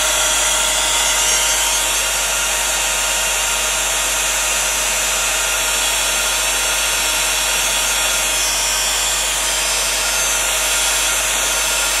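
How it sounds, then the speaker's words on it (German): A hair dryer blows on papercraft that has been treated with distress sprays. It gives a loud, steady, close whoosh of rushing air and motor whine that continues without break throughout, with no voices. "Und ich föhne den mal noch."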